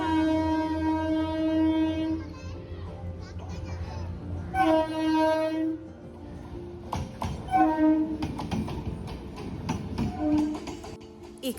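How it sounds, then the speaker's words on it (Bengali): A train approaches and passes, its horn blaring in several long, drawn-out toots between rumbling, clattering wheel noise, fairly close, with people talking over it. "ওই ট্রেন আসছে, কিন্তু এখান দিয়ে দেখা যাবে। ট্রেন আসছে, আওয়াজ হচ্ছে।"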